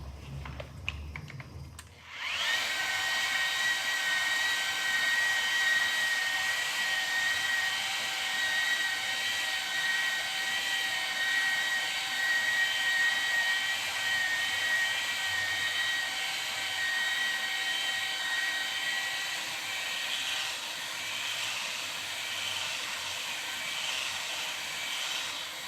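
A power tool running at half speed dresses turbo and resin diamond pads, starting with a short thud, then a steady, high-pitched whine with a gritty hiss that holds loud and even throughout.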